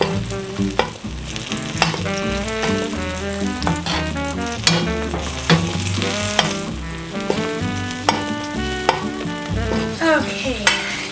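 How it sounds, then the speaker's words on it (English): Chicken fried and basted with butter in a pan, with a continuous sizzle and repeated sharp spoon or utensil clinks against the pan in an uneven rhythm. Music plays underneath. "I've been continuously basting this for 8 minutes or so"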